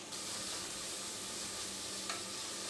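Sliced onions sauté in a pan for a Kerala-style curry, making a constant close hissing sizzle with a single brief stir scrape near the end.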